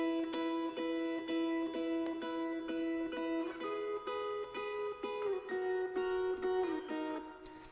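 An acoustic guitar harmony part rings out in close, sustained plucked notes at a steady pulse, layered tones shifting pitch partway through, played alone without talk.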